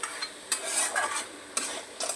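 Cauliflower stem curry with lentil dumplings stirred in a pan, close by, with repeated scraping strokes of a spatula over a soft sizzle, several distinct bursts in quick succession and no voices.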